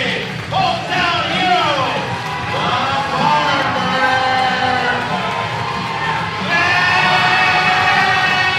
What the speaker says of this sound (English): Crowd loves this guy, Mike